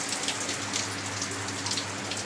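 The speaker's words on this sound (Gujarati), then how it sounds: "ઓચિંતાનો ફૂલ વરસાદ આવી ગયો ધૂમ મચાવી રહ્યો છે વરસાદ" Sudden heavy rain pours down after a hot, humid, sunny spell, a dense, steady hiss of drops striking surfaces that fills the whole moment without pause.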